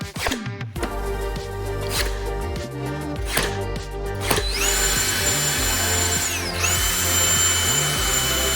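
A power drill driving screws into a fence picket planter box, with several short whirring bursts that rise and fall, then a longer high-pitched spin near the end, all close and loud with no talk.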